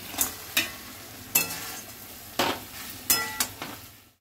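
Fried chicken pieces are stirred into a cooked masala in a pan, a spoon scraping in sharp sizzling strokes about six times over a soft frying hiss, close and without talk.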